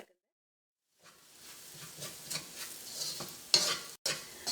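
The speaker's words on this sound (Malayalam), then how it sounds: "ഈ മല്ലിപ്പൊടി എണ്ണയിൽ കിടന്ന് നന്നായിട്ട് മുരിഞ്ഞിട്ടുണ്ട്" Ground coriander and chilli powder frying in hot oil for a palak chicken curry, a soft steady sizzle with stirring scrapes and a few sharper spatula clicks near the end.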